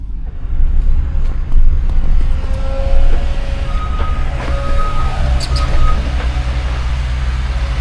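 Truck cab ride in Vermont, with a loud, steady low engine rumble and road noise throughout, plus occasional faint tonal whines and clunks over the drone.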